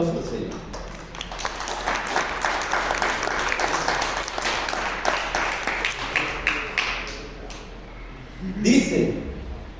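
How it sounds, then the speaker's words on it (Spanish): Applause from a church congregation during a sermon, moderate and continuous for several seconds, then fading as a voice briefly speaks near the end. "Denme un aplauso al Señor."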